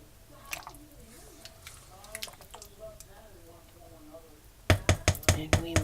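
Goulash with cheese being stirred in a pot, soft wet squishing under faint background voices, then a closer run of rapid thick squelching strokes near the end.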